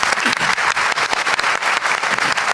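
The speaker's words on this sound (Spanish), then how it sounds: "un fuerte aplauso para el hermano" Church congregation applauding a brother who has just spoken, a dense, steady burst of many hands clapping that fills the whole stretch at close, even loudness.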